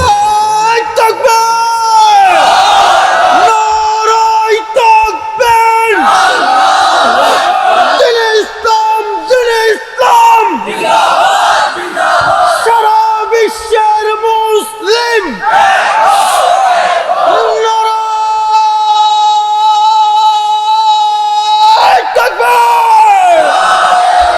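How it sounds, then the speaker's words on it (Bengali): At an outdoor Islamic sermon gathering, a large crowd answers a preacher's call with repeated loud, drawn-out chanted cries of Allahu Akbar, swelling in rhythmic waves between shorter calls from the speaker over an amplified sound system. "তাকবীর দেন তো জোরে, নারায়ে তাকবীর"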